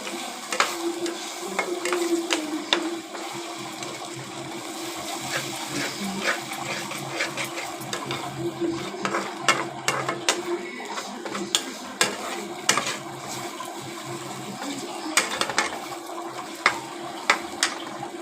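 Six beaten eggs stir-fry in a pan, giving a continuous soft sizzle under frequent clinking scrapes of a spatula. The sound is close and fairly quiet, with no talking.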